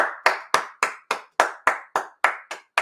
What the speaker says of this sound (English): Everyone clap for SeatGeek